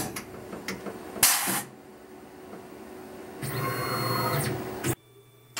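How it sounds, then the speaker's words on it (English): A CNC milling machine probes the pallet and stock material, giving quiet electronic whirring and servo hums with a couple of short sharp bursts, heard alone. "I am probing the palette and the stock material so that the computer knows exactly where the top"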